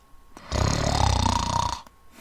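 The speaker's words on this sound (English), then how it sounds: "Mark was snoring loudly." One long, loud snore rumbles on a drawn-in breath, lasting over a second, close up and alone.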